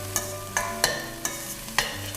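Fenugreek leaves sizzling in hot tempering oil, a continuous close sizzle punctuated by several sharp spoon or spatula clinks against the pan at irregular intervals.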